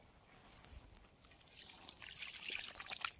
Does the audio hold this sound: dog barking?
no